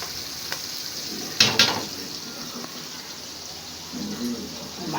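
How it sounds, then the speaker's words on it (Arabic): Red pepper and garlic fry in a pan, giving a steady, close sizzle with a brief clatter of stirring partway through and faint crackles continuing throughout. "الفلفل كده الاحمر كده يتحمر مع التومه"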